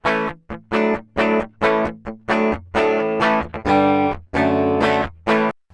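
A dry electric guitar recorded through an Audient Sono interface plays a rhythmic run of strummed chords, each stroke loud and close, with short gaps between them.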